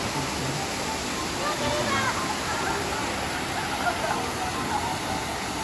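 Awao Falls, a waterfall where people bathe, gives a steady, loud broadband rush of falling water that holds constant throughout, with faint voices and splashing mixed in under the roar.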